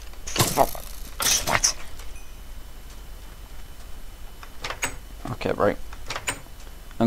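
A few clunking door-closing thuds in a game, spaced apart with quieter stretches between them and faint ticking in the background.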